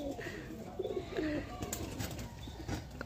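Andhra pigeons in a loft give soft, low cooing calls in short bursts, fairly quiet against background room noise with a faint flutter.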